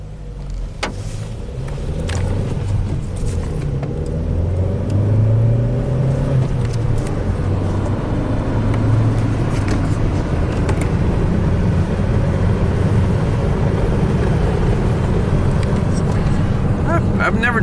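A manual stick-shift Chevy Cruze drives on a paved road, a steady low engine and road hum that stays even and fairly loud throughout, with no words spoken over it.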